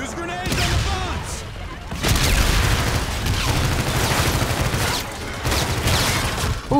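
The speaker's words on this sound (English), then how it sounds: "Oh, that's a grenade right there." Heavy combat from Call of Duty: Infinite Warfare, with rapid gunfire bursts, booming blasts including a grenade explosion, and dense battlefield noise that surges and drops across several seconds, a voice speaking briefly over it.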